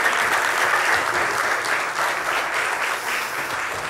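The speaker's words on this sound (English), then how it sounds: "Can you give them a round of applause this morning?" A church congregation applauds at a Sunday morning service, a dense, steady clapping close by that fades slightly toward the end, with no voices over it.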